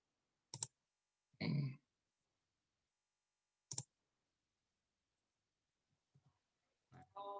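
Computer keyboard and mouse clicks used to copy and paste: a few isolated sharp clicks and short tapping bursts separated by silence, quiet and close, with no talk.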